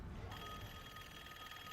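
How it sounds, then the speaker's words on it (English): A telephone rings faintly inside a Black Ops 7 Zombies game, a thin steady electronic tone that starts after a brief moment and holds under low background hum. "I hear the phone ringing though."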